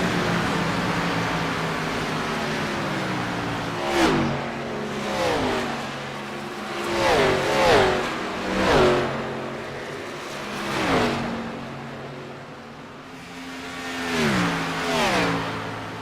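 Race cars from a sim-racing game circle Michigan Speedway, engines droning steadily with repeated rising-and-falling passes as cars sweep by, several distinct whooshes spaced a second or two apart, no voices over it.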